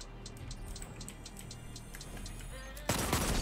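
Sniper fire in a competitive tournament shooter, with sharp repeated clicks and ticks through the game audio, then a sudden loud broadband blast near the end.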